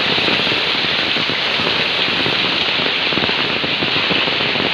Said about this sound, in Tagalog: Lumakas lalo yung ulan.